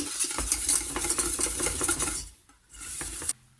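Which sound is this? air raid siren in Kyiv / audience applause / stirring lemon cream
stirring lemon cream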